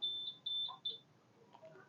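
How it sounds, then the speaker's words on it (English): Electronic alarm on a Suzuki V-Strom DL650 motorcycle being disarmed by its fob: three short, high, clear beeps in quick succession, then a few faint chirps. "okay, so that's the alarm disarmed"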